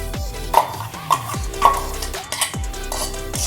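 Tomato chutney with sugar stirred and frying in a pan: a spoon scrapes and knocks against the pot in repeated strokes about once a second, close up over a steady low sizzle, with no voices.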